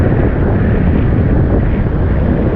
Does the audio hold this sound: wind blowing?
yes